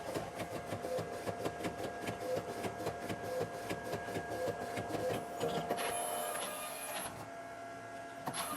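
Printer running a test print for cookies, making steady rhythmic mechanical whirring and clicking with repeated head movements, a higher whine joining near the end; close and continuous with no talk.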